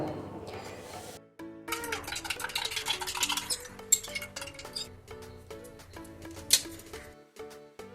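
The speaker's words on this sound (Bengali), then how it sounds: "দিয়ে এটা একটু গুলিয়ে নিলাম" Quick clinking of a spoon against a glass jar as a mango drink is stirred, rapid rattling taps over faint background music.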